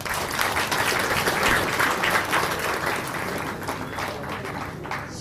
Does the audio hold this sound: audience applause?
yes